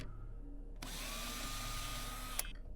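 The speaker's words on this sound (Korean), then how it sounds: "누가 드릴로 밀어" A drill whirs in the video game Five Nights in Anime Reborn, a steady high-pitched tonal buzz that kicks in abruptly after a quiet start and runs on with a brief click near the end.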